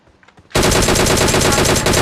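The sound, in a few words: M4 rifle gunfire in video game PUBG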